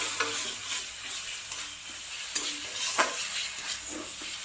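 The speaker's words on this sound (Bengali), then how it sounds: "গ্যাসটা বাড়িয়ে নিলাম, নিয়ে এটাকে এবার কষতে হবে" A spiced masala with fish sizzles and is stirred in a hot pan over a raised gas flame, with a continuous loud frying hiss and intermittent scraping strokes of the spatula, no voices.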